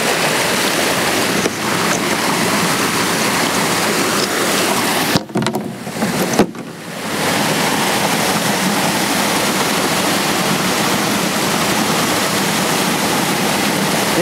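Creek water rushes loudly and steadily through a small homemade dam into a vertical-turbine hydro generator, a dense roaring wash with a brief dip and thump midway before the full flow resumes.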